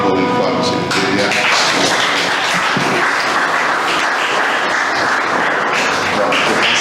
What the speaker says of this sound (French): Je vous demanderai d'applaudir encore une fois M. le DGA.